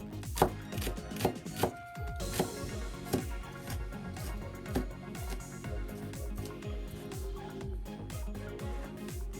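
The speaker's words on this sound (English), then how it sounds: "So this scallion we will chop it. So we try to chop it as small as possible." A knife dices scallion very finely on a board in rapid, even taps that keep up close and steady throughout, with no talking.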